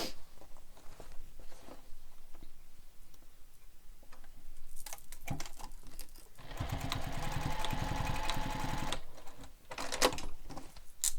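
A sewing machine bastes pieces of a Manhattan bag in place with a long stitch, running in a steady stitching burst after quieter handling and clicks, fairly close and moderately loud.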